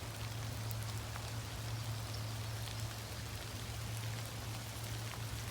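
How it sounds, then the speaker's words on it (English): Steady rain falls on a wooded hiking trail in the North Carolina Piedmont under gray skies, a continuous close patter of drops with a low constant hum beneath and no voices. "with the gray skies and the rain falling, it has its own beauty about it"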